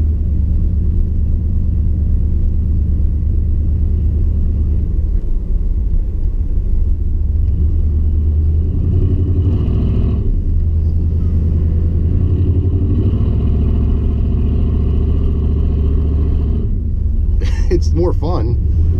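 A pickup truck drives through snow in two-wheel drive, its low engine rumble and road noise continuous and close from inside the cab, with a voice talking over it.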